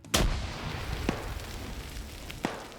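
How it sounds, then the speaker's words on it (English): A grenade goes off on a rooftop in a shooter video game, a sharp blast followed by a few quieter distant thuds and bangs over a low rumbling background. "Grenade the roof."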